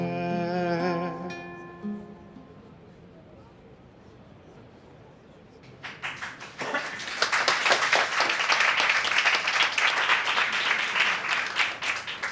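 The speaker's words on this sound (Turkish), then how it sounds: "Bu alkışlarınız boşuna değil." A stage-show audience breaks into loud, dense applause that swells after a sung line fades and a quiet pause, the clapping continuing strongly to the end.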